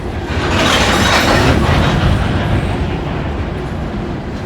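A loud, broad roar of a long, heavy coal train passing close by, steady and rumbling throughout with faint rail clatter.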